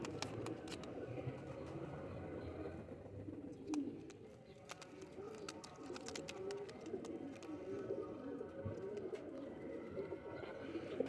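Dimka pigeons coo softly in low, rolling, repeated calls, joined by a few sharp clicks and faint rustles, all quiet and fairly close with no talking.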